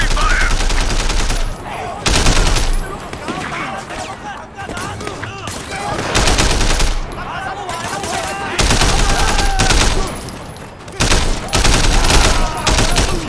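Heavy automatic gunfire erupts in repeated loud bursts during a New Year's shootout in the action game Sleeping Dogs, with short gaps between volleys and a voice talking underneath.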